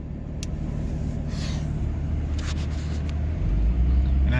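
A Banshee vehicle running a VGT controller accelerates from a drive, its engine rumble steady at first and then swelling deeper and louder near the end, with faint clicks and no talking.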